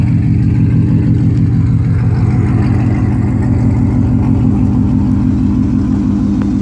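A 2015 Ford Mustang GT's 5.0 Coyote V8 idles with a deep, steady, loping rumble, close and continuous, with no talking over it.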